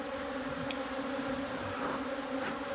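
Steady, close buzzing of many honey bees at a hive fills the air in a continuous drone.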